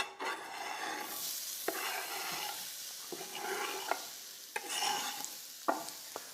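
Onions sizzle and crackle steadily in hot oil, with occasional scrapes and clinks of a utensil stirring the pan.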